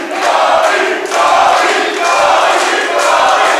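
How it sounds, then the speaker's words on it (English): Wrestling crowd at a live show chanting Bobby Ballantyne's name, a loud, dense wash of many voices rising and falling in rhythmic surges over several seconds, close and filling the room. "Crowd chanting Bobby Ballantyne's name."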